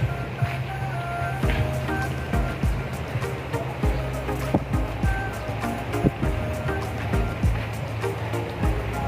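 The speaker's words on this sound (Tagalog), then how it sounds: "Lumalakas ang ulan." Heavy rain falls at a beach, a dense, steady hiss over a low rumble of surf and wind, with scattered close patters and knocks throughout.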